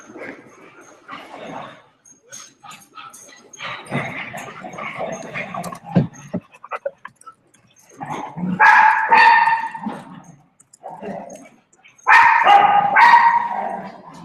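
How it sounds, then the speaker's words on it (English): Several dogs bark, yip and whimper during rough play, in bursts of loud barking separated by quieter scuffling, with a voice speaking briefly between them. "Dogs are going crazy."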